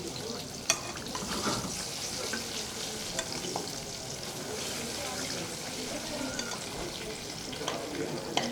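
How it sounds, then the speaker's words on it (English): Taro (arbi) coated in masala fries in a pan, a steady soft sizzle running under quiet talk, with occasional light clinks of stirring. "I'm just frying it right now."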